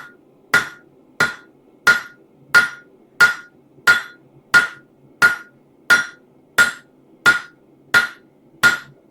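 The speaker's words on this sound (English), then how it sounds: "I'm actually hammering in the center and turning this guy over" Steady hammer blows on a gardener's trowel being forged, fourteen sharp metallic strikes at an even rhythm of roughly two every three seconds, close and loud, each ringing briefly before the next, with no talk.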